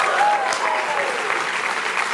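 Student audience at a national conservative conference claps together in a sustained round of applause, a dense, steady wash of hands with no speech over it.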